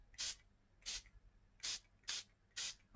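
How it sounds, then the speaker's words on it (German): Coffee sprayed from a spray bottle onto gesso-coated paper, five short hissing bursts at a roughly even pace, close and fairly crisp against a quiet background. "sprühe ich da einfach Kaffee drüber"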